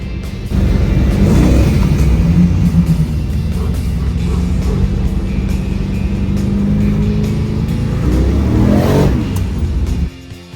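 A car fitted with cheap $99 turbos idles and revs loudly up close as it drives onto a dyno, a steady engine drone with a rising rev near the end before it cuts off.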